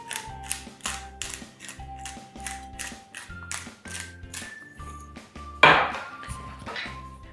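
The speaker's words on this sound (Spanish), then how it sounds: "Le echamos un poco de chile del molinillo." Hand-turned chili grinder mill cracking dried chili, a rapid series of rhythmic ratcheting clicks and crunches repeating close up with no voices.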